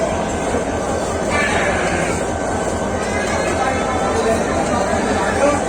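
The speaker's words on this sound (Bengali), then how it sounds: "দুই সাত এক চার লোকোমোটিভ নিয়ে নাসিরাবাদ এক্সপ্রেস ছেড়ে যাচ্ছে" The Nasirabad Express rumbles past loudly and continuously, heavy rolling noise of a departing locomotive numbered 2714 and carriages, with a voice speaking over it.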